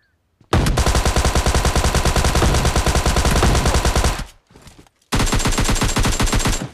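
Rapid automatic gunfire in PUBG, a loud unbroken burst of closely spaced shots for several seconds, a brief lull, then another sustained burst; a shotgun is among the weapons, with no talk.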